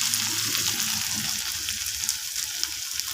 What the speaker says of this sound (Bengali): টমেটোগুলোকে আমি নরম হওয়া পর্যন্ত পেঁয়াজের সাথে ভেজে নেব